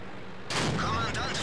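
Cannon fire from a PzKpfw IV Tier 5 medium tank in World of Tanks gives one sudden loud blast that rumbles on briefly, and a second crack follows, with commentary over it.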